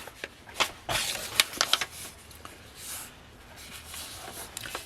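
A sheet of paper for a curved, rounded book spine is folded in half at close range, giving soft crinkling and a few sharp creasing rustles early on, then faint sliding paper sounds, with no talking.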